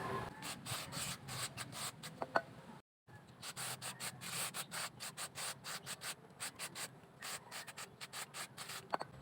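Parts from the CVT torque drive of a Honda PCX160 scooter are scrubbed clean, giving quick rhythmic rubbing strokes close to the mic, with a brief silent pause early on and then more steady scrubbing.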